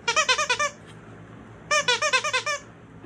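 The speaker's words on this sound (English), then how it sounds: "The last squeaky toy I have is this donut." A Zippy Paws rainbow donut squeaky toy is squeezed in two quick bursts of about six sharp, high squeaks each, separated by a second of quiet, loud and close with no talking.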